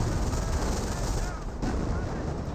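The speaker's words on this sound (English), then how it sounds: "It looks like creeping barrage being brought in on top of those" Creeping artillery barrage in the World War II strategy game Company of Heroes, shelling Grenadiers with a dense run of booming impacts and gunfire layered over a steady battle rumble.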